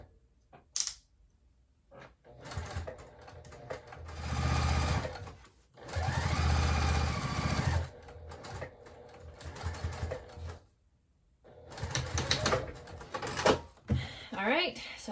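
A sewing machine stitches a 3/8-inch seam on a bag upcycled from jeans, running in several loud close bursts separated by pauses, and a person talks between the runs.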